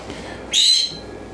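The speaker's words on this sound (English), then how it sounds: "if you hear a noisy bird in the background." A single short, shrill whistled call from a pet bird rings out close by in a home kitchen, lasting a moment before cutting off.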